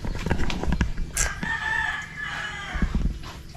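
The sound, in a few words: chickens crowing and clucking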